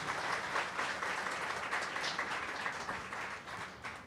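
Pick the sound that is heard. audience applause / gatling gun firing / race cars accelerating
audience applause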